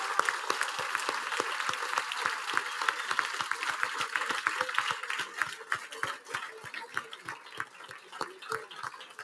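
Applause from a conference audience at a feminist congress panel, dense sustained clapping from many hands that thins out toward the end, with faint voices underneath.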